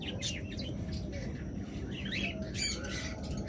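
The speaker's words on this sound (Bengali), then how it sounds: "দেখতেছেন এরকম বাজরিকা পাখি" Budgerigars in a bird shop chirping and squawking in repeated bursts over a dense, noisy background, with faint talk mixed in.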